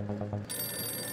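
A telephone bell starts ringing abruptly partway through, a steady bright electronic trill that continues to the end, with indistinct low voices or background sound before it begins.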